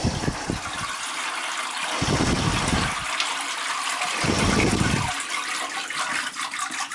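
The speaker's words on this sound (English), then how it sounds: "I'll just drain it out a bit" Liquid drains from a bubbler container used to recover gold from RAM sticks, a steady gushing wash that swells and eases in repeated surges over several seconds.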